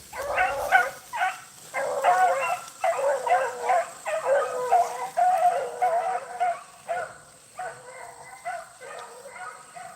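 Several beagles, young pups among them, bay and yip in repeated overlapping bursts while running a jumped rabbit on a hunt, the pack voices moderately near and steady across the whole stretch.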